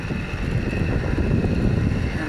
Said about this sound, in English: And interesting, there it is starting up.